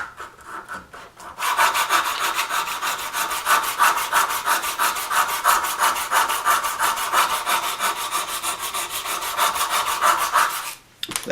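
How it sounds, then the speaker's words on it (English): Sandpaper rubbed by hand on a wooden bridge being made for a Martin D-35 acoustic guitar, a close, loud, rhythmic back-and-forth rasp of quick even strokes that starts after a brief pause and stops near the end. "Use the same sheet of sandpaper here."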